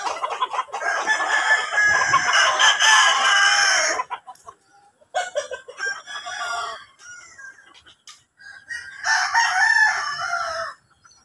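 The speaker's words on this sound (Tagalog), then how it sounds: "Nagsabong na yung mga manok." Chickens and roosters crow loudly in several long bursts, with clucking between calls, close by in a quiet wooded outdoor setting.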